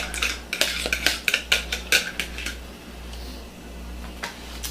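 A spoon stirs apple quick bread batter in a bowl, clinking quickly and rhythmically against the sides with about a dozen close taps before the strokes soften and fade.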